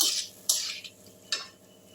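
Potatoes and drumstick flowers stirred in a pan with a spoon, giving three short scraping strokes against the metal with quiet gaps between, close and fairly soft, no voices.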